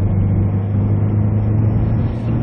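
A 2009 Kia Sorento R accelerating uphill after a U-turn, heard as a loud, steady low engine drone with road rumble throughout, with no talking.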